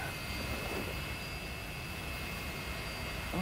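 A jet engine at full throttle in the DCS combat flight simulator, a steady, even roar with a thin high whine running through it, loud and unbroken for the whole stretch with no voices.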